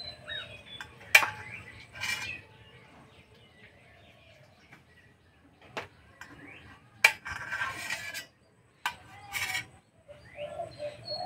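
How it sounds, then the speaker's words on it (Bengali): A knife cutting boiled eggs into rounds, probably against a board, makes a few sharp taps and short scraping strokes spread across a quiet kitchen, with soft clinks and pauses between the cuts. "দুটো সিদ্ধ ডিম নিয়েছি, ডিম দুটো কেটে নেব"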